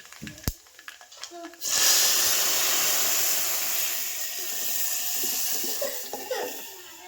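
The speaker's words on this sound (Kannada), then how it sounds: "ನೀರು ಹಾಕ್ಬಿಡ್ತೀನಿ ರೀ ಅದಕ್ಕೆ" Water is poured into a cooking pot of sambar, a sudden loud, steady gush that starts after a few light knocks and carries on to the end.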